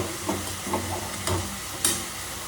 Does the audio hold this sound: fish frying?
yes